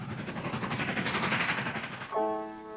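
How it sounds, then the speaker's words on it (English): A train rumbles along with a rushing, rattling roar, then a horn blares near the end. "A train makes a middle sound."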